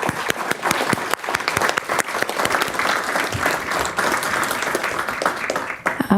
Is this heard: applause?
yes